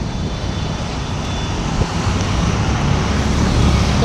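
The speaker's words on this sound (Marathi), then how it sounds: "बघितलं गाड्यांचं प्रमाण मुंबईमध्ये किती असतं" Morning road traffic in Mumbai makes a steady, dense roar of passing cars and engines that builds slightly louder toward the end, with no voices.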